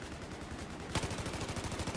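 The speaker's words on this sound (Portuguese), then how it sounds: "Que eu vou chegar dando um tiro de Rambo ali" Rapid automatic gunfire from the video game Battlefield 4, on the Operation Locker map, starts a second in and continues as a quick, even burst of shots, heard at a low level.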